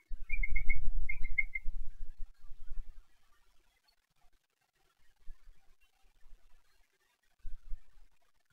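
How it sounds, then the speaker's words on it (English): Birds give two short, high chirping trills early on, small and somewhat distant, over low rumbling thuds and handling noise that come and go. No one speaks. "There's the birds back again"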